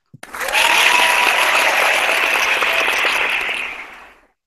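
An audience claps together in sustained applause, a dense burst rising quickly and holding for about four seconds before trailing off, loud and without talk over it.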